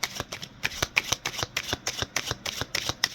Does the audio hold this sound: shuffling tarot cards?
yes